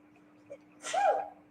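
A single sneeze in a school district board meeting room: a short, close burst with a small intake before it, over a faint electrical hum.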